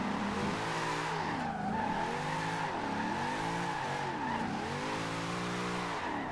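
A VW Type 2 De Luxe van with a V8 drift build spins out in Forza Horizon 2, its engine revving in repeated swells while the tires squeal and skid loudly and continuously.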